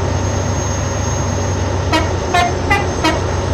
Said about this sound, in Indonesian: Mantap klaksonnya.